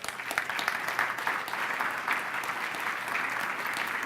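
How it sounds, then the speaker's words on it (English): Sustained applause from a conference audience at a plenary session on security and diplomacy, a soft, even wash of many hands clapping at a distance, with no talk over it. "give these speakers an enormous round of applause"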